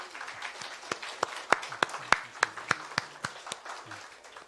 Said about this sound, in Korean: 우리 하나님께 다 같이 영광의 박수